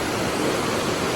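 River water flowing past a campsite at Ulu Kelong, a steady broadband rush with no breaks, close and fairly loud, with no voices.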